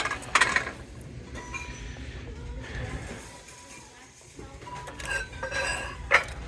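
Stoneware dishes are handled on a thrift store shelf, with scattered clinks and clatters of ceramic plates knocking together at close range amid soft background store noise.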